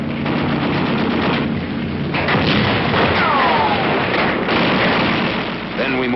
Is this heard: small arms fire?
yes